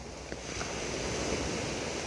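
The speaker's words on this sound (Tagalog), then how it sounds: "Tatapang ng alon." Strong sea waves surge in a steady, loud broadband wash, with wind noise over the microphone during stormy, rainy weather.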